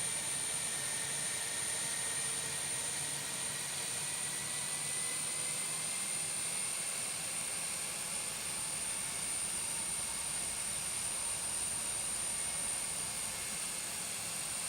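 An airliner in X-Plane 11, an MD-90 with IAE engines, lands with a steady, even jet whine and roar that hold unchanged throughout, with no voices.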